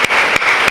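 An audience at a public speech breaks into a brief burst of loud, dense, continuous clapping, heard up close with no talking over it.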